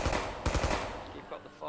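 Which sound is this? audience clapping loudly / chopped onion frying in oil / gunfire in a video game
gunfire in a video game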